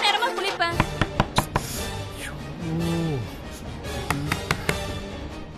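Someone knocks on a bathroom door in sharp bursts of raps, the knocks loud and close and coming in several irregular clusters, with a voice speaking in between.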